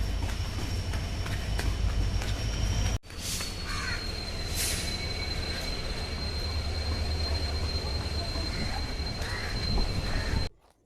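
A train bound for Goa rolls along the rails with a steady loud rumble. A thin, high wheel squeal rings over it, with a few brief clanks, and the sound cuts off abruptly near the end.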